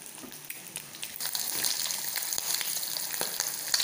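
Egg chilli sauce with tomato sauce sizzles steadily in a pan while being stirred, with scattered scraping clicks from the spoon over a continuous bright frying hiss that swells slightly partway through.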